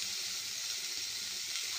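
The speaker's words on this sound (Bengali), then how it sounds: "আলুটা ভাজা ভাজা হয়ে এসেছে" Potatoes fry in hot oil, giving a soft, continuous crackling sizzle that stays even and fairly quiet for a brief moment, with no voices.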